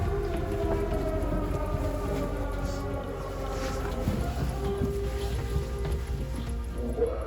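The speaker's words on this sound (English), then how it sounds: "air raid sirens are going off" Steady, sustained air raid sirens wail over the whole scene in Ukraine with a low rumbling background, distant and continuous, faint voices murmuring beneath, heard from a church basement.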